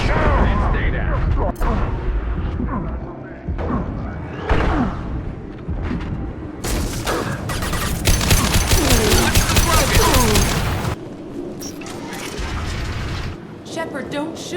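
Gunfire in Mass Effect 2, with bursts of rapid automatic shots and mechanical clatter mixed with game voices, and a dense, loud stretch of sustained firing in the middle.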